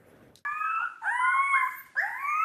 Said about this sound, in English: Tonight, a howl